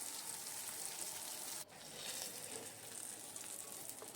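Pieces of rohu fish sprinkled with turmeric and salt fry over a lowered gas flame, giving a faint, even sizzle with one brief dip partway through. Nobody speaks.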